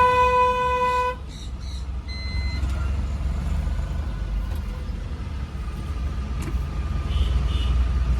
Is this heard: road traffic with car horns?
yes